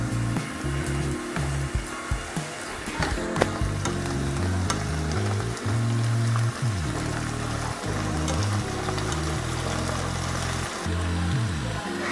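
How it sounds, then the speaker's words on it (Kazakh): Cabbage roll filling sizzling in a pan with tomato, a dense, steady frying hiss with crackles and the clatter of stirring close by. "Мінекей осылай әдемі қуырылып жатыр"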